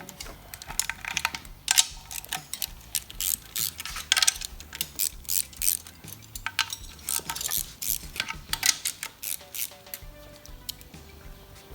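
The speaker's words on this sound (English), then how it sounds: "You're gonna need to just use a wrench." A hand wrench cracks loose and ratchets bolts off a Comet engine during a teardown, giving fast, close metallic clicking in uneven bursts, with no talk.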